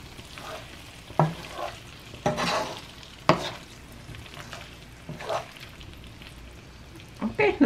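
Potatoes with cream and poblano chile cooking on low heat, with a soft steady simmer and faint sizzle broken by a few brief stirring scrapes and clinks of a utensil against the pan.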